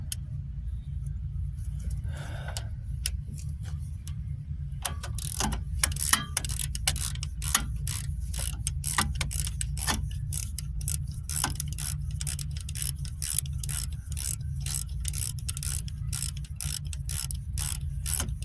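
A ratchet clicks steadily as a bolt is spun out of the rear hub of a 2006 Dodge Grand Caravan, with a rapid close run of ticks over a constant low hum.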